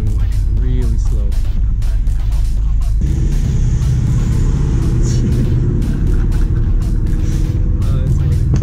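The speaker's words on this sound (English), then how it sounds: "this Chevy Cruze is going really slow" A Chevy Cruze car rolls slowly past with a low, steady engine rumble, its nearby tone swelling midway and holding under people talking.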